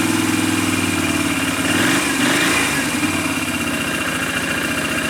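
A 2008 Can-Am 500 HO EFI ATV engine idles steadily at close range, giving a rhythmic low thrum with a slight rise partway through before settling back.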